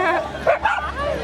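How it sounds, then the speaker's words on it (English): Small dogs give a short, close burst of yappy barks and whimpering, loud and close over about a second. "And then my friend is here with her loud dogs."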